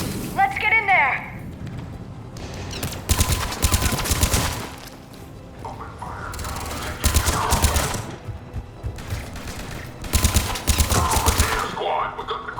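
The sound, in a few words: gunfire in the video game Mass Effect 3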